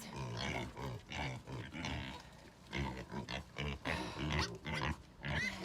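Several young growing pigs on a homestead grunt and snort continuously, overlapping throughout, close by and fairly loud, with occasional squeals.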